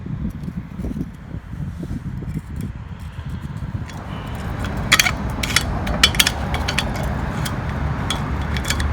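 Metal scraping and clicking as a flathead screwdriver works at a wheel hub nut lock on a 2004 Nissan Altima, with irregular taps and scrapes growing sharper and busier midway, close by and with no talking.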